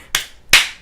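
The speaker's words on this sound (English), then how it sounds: "Why are you clapping?" Two sharp hand claps close to the microphone, spaced about a third of a second apart, the second louder, with no talk around them.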